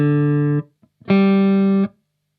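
Electric guitar with the neck pickup and volume fully up, played through a modded Mesa Boogie Rectifier tube amp: two loud sustained notes, the second longer, warm and heavy in the low end.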